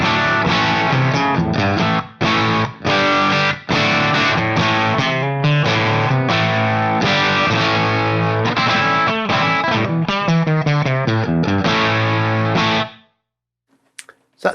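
An electric guitar played through the AC box cabinet amp in Guitar Rig 6, a bright, slightly distorted chiming tone with strummed chords and choppy rhythmic stops running about thirteen seconds before it falls silent.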